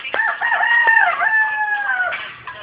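A rooster crows once, close and loud, a long drawn-out cock-a-doodle-doo call lasting about two seconds with no talking over it.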